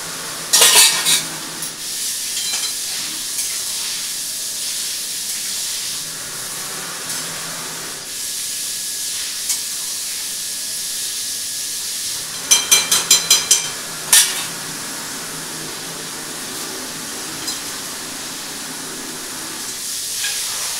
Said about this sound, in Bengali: এবার দিয়ে দেবো এই যে ভেজে রাখা পটলগুলো